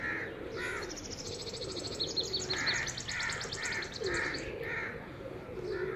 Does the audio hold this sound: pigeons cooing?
yes